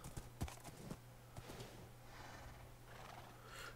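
A horse in a Minecraft Lord of the Rings mod gallops with quick, faint clip-clopping hoof beats, followed by a soft whinny under game ambience.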